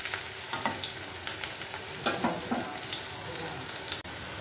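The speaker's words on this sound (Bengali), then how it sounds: "আলুগুলো লাল লাল করে ভেজে নিয়েছি।" Potatoes frying in a pan give a steady close sizzle with scattered pops and stirring scrapes throughout, ending in a sharp clack near the end.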